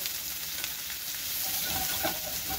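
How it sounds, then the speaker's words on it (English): Diced mushrooms and red onion sizzle in oil in a pan while being stirred, making a close, steady frying hiss with light scraping, and no voices. "about 3 cups of diced mushrooms, a little bit of red onion. We'll stir that around."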